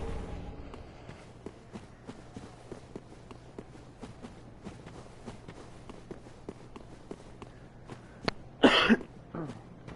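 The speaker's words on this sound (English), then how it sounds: "I will be coughing intermittently." A short burst of coughing near the end, over quiet background tapping and shuffling footsteps.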